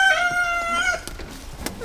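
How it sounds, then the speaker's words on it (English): A rooster crows loudly and close by in one long drawn-out call, then a few faint clucks and scratchy rustles follow. "See the chicken in there?"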